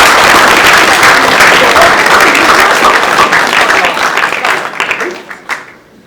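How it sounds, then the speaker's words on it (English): Sustained clapping from a school assembly crowd, loud and dense throughout, tapering off sharply in the final second. "One more round of applause for the boys."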